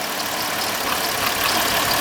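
A 2005 Cadillac CTS with a 3.6L engine idles steadily nearby during a purge valve check on a car with a crank/no-start fault after refuelling. The hum is dense and even, with no voices.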